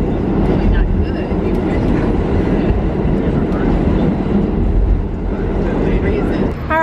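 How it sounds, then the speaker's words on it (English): Loud, steady rumble of a New York subway train in motion, a continuous roar of wheels and carriage noise throughout with faint talk mixed in beneath it. "So we're taking the train because we think it'll be faster."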